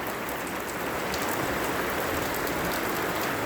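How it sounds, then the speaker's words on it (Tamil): Heavy rain pours down steadily outdoors, a dense, continuous hiss of drops spattering on pooled water and hard ground, loud and even throughout with no voices. "இங்கே பாருங்கள் எவ்வளோ மழை பெய்யுதுன்னு பார்த்தீங்களா?"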